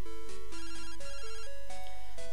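Pokégear phone ringing in the Pokémon Silver video game: a bright chiptune ringtone of stepped electronic tones repeating in short bursts, loud and alone with no talk.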